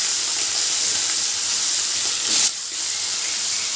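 Boal fish pieces sizzle in hot oil in a kadai, a loud, continuous bright hiss with a brief flare of spattering near the end. No talking.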